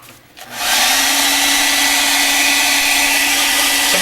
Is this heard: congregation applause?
no